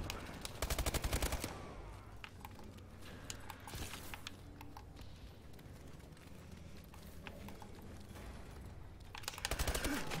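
Gunfight in the Call of Duty Havoc DLC map Core, with rapid automatic fire crackling in dense bursts at the start and again at the end, lighter scattered shots and game ambience between.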